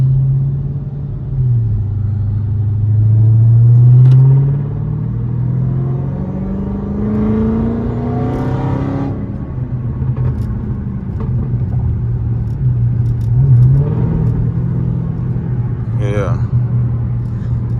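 Dodge SRT Hellcat engine rumbling steadily while driving, with a loud rev swelling around the fourth second and another smaller rise later, the low drone continuing throughout.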